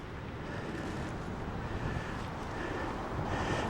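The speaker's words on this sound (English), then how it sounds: "Very windy in these parts." Wind gusts roar steadily across the open plains at First Peoples Buffalo Jump in Montana, a loud, continuous broadband rush buffeting the microphone without a break.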